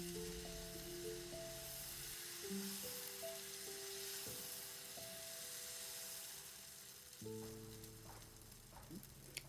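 Pesarattu, a moong dal dosa batter, sizzles softly on a hot pan over a medium flame. The quiet, even crackle runs throughout beneath gentle background music.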